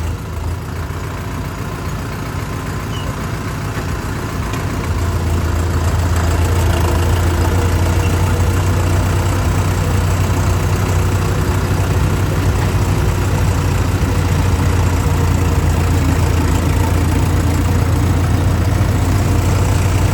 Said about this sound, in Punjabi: ਟਰੈਕਟਰ ਦਾ ਤੋਰਾ ਵੀ ਵਧੀਆ ਹੈ